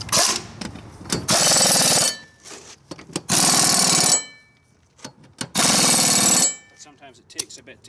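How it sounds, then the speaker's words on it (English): An air-powered grease gun loaded with a new tube of grease is being primed, giving three loud, harsh pneumatic bursts about a second long each, with someone talking in the gaps between them. "my grease gun, air-powered grease gun."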